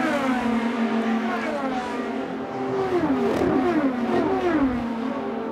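IndyCar race cars at the 2018 Indianapolis 500 scream past in an overlapping chorus of high engine whines, pitches sliding up and down as several cars pass close by at speed.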